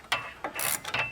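A ratchet with a 19mm socket works a nut on a 2018+ Jeep Wrangler JL suspension, clicking through several short back-and-forth strokes at close range.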